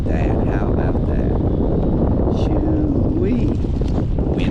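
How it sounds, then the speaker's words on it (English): Strong wind buffets the microphone at a dam spillway in a loud, steady roar, with a voice briefly breaking through. "Wind is screaming at it."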